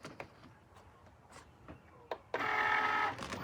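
Vinyl cutting machine taking in a sheet of vinyl: a few scattered clicks and handling taps, then the motor kicks in with a loud, close whirring feed that runs about a second before easing.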